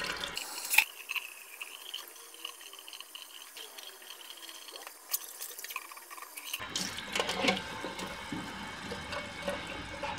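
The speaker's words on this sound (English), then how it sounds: "we've got some hot water going on there" Hot water runs from a tap during copper etching with salt water, a close, trickling flow with drips and clinks that thins out for a while and then returns more fully.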